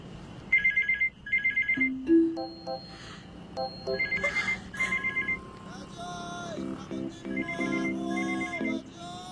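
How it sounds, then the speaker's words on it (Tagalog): A telephone ringtone repeats in bursts of electronic tones, loud and close, with a few other tones layered in partway through. "Sagutin mo ang telepono!"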